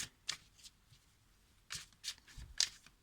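Slippery tarot cards shuffled by hand in a few short riffling bursts, close and fairly quiet, separated by pauses with no talk.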